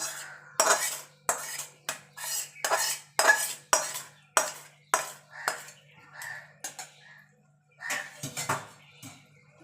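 Roasted semolina is stirred with syrup in a pan over low-to-medium heat, a dozen or so sharp, regular scrapes and clinks of the spoon against metal, close and clear, with a short pause before a final flurry.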